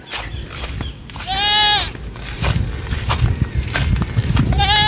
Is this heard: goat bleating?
yes